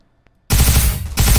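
A rapid, loud automatic-weapon burst rips out after a short quiet moment, sustained and close, from a firefight in the Arma 3 military game with a Warhammer 40k setting.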